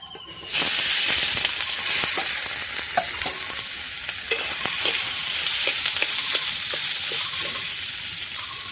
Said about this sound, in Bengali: আলুর মধ্যে পেঁয়াজ কুচি আর লঙ্কা কুচি আমি মিশিয়ে নিয়েছি, এটা আমি ভেজে নেব